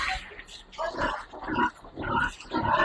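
Piglets on a farm grunt and snuffle during dry feeding, a busy cluster of short nasal grunts close by that rises and falls in bursts across the moment, with some faint background rustling.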